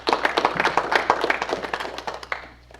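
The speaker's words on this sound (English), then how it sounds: "Everybody give him a round of applause." A small club audience claps for Hicksville's mayor at a Rotary meeting, a short burst of close, uneven handclaps that thins out and fades over a few seconds.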